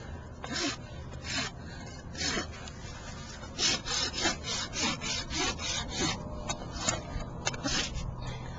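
Steady strokes of a rasp filing a horse's hoof to round its edges during trimming, close and fairly loud, with a repeated back-and-forth scraping rhythm throughout and no talk.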